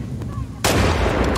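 A single loud gunshot in The Last of Us Part II, a sharp broadband blast that cuts in abruptly after a quieter stretch of in-game ambience and rings out with a sustained reverberant tail.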